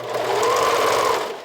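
A sewing machine runs in one steady, close burst of fast, even stitching, sewing elastic down onto a bralette.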